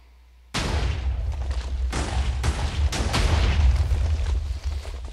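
A string of fireworks goes off in a city-building game, a sudden loud start followed by repeated booms and crackling bursts that roll on for several seconds without talk.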